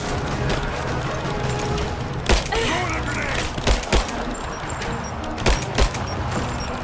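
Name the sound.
grenade explosions in Rise of the Tomb Raider video game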